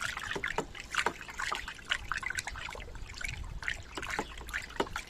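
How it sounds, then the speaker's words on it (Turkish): Liquid worm fertilizer being stirred into water in a bucket: soft, irregular trickling and splashing sloshes, close and fairly faint, continuing steadily throughout with no talk. "Bu şekilde karıştırıyorum arkadaşlar."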